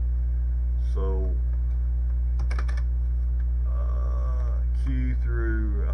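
Keys tapped in short scattered clicks on the faulty keyboard of a retro 8-bit Tandy 1400 laptop computer, heard over a loud steady mains hum.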